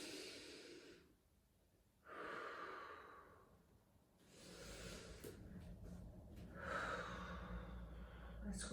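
Slow, deep breathing during a judo flexibility stretch, with long airy inhales and exhales in a steady cycle, close and soft with a faint background hum.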